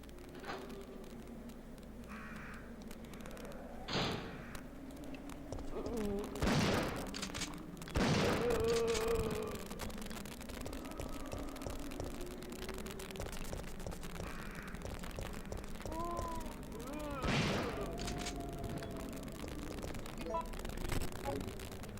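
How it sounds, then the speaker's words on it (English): Shotgun firing in the 1999 Resident Evil 3, several spaced heavy blasts with reverberant booms, mixed with game sounds and someone talking throughout. "So I'll use the last 7 shotgun shells in my clip."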